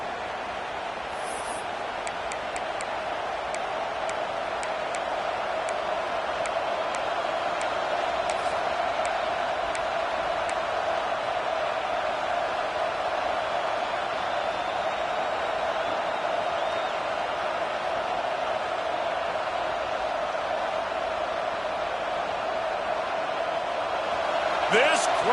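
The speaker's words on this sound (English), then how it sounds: "This crowd, full throat, splitting the eardrums and letting them know it's going to be a long day" A stadium crowd at a college football game roars in a loud, sustained wash of noise. It holds steady throughout and swells a little near the end.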